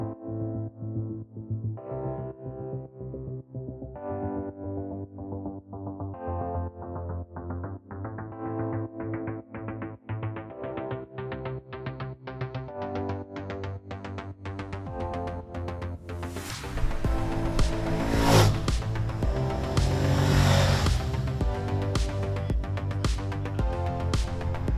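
A Honda VTR1000 SP1 motorcycle is ridden on the road. The close engine climbs in pitch again and again through gear changes, then wind rush builds as the bike gathers speed.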